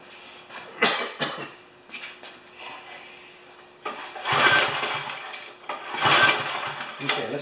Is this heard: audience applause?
no